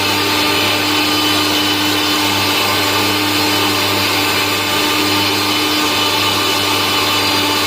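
An electric grinder grinding onion in a home kitchen runs as a steady, loud motor whine with a constant buzzing drone that holds unchanged from start to finish, with no talking.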